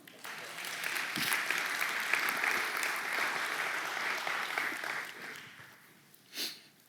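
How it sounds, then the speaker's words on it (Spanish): A church congregation claps together after a worship call, sustained applause holding steady for about five seconds before tapering off, with a brief burst near the end. "Le doy un aplauso al Señor."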